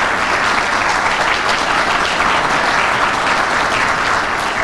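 An audience at a formal speech, as Fatma Şahin becomes AMF president, breaks into loud, sustained applause, dense, even clapping from many hands with no talk over it.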